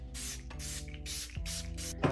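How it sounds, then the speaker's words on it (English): Several quick hissing pumps of Kosas Plump and Juicy Collagen Spray-On Serum mist out in a close, quiet room, each a short soft spritz in a steady rhythm. "we're gonna go in with the Kosas Plump and Juicy Collagen Spray-On Serum"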